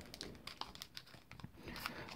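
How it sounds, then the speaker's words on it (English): A Pokemon card booster pack wrapper is pulled and twisted open, giving close, faint crinkling and tearing plastic noises in irregular bursts. "Oh, I can't get this pack open."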